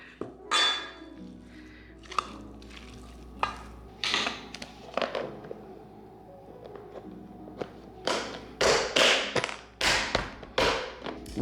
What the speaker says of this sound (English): now let's mix it all together